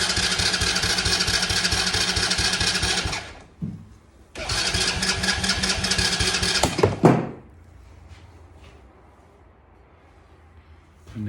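A small kids' quad engine starts and revs at a steady loud idle, cuts out, fires up again for a few seconds, then dies with a sputter into near quiet, with choke adjustments made between runs.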